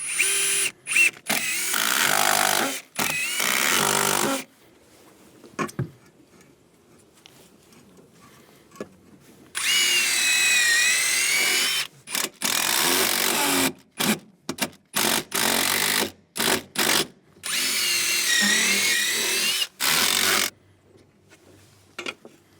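A power drill drives screws to fix a fascia mount bracket, in repeated loud bursts of whirring separated by short pauses, close by and with no talking.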